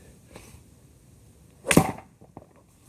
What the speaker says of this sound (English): you can hear how hard I'm hitting this ball